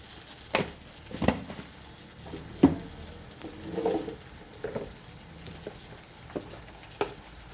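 Ginger garlic paste frying in a pan: a soft, continuous sizzle broken by scattered clinks and scrapes of stirring, fairly quiet and close, with no talking.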